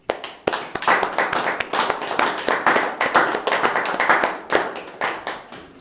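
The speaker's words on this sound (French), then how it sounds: "veuillez applaudir" A group claps at a season-finale gathering, sharp individual hand claps close by building into a steady, slightly uneven patter of applause that swells and holds without voices.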